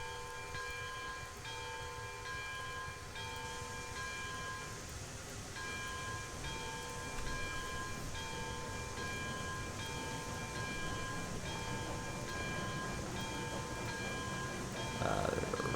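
A steam train running on a sawmill branch line in the video game Railroads Online, heard as a steady mechanical rumble with a regular rhythmic chuffing beat and faint background tones.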